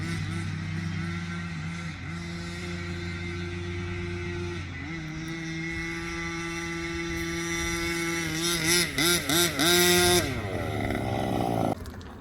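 Gas-powered Rovan Max 5T RC truck engine running close by, a buzzing two-stroke drone that holds steady, then revs sharply in several quick bursts before dropping off.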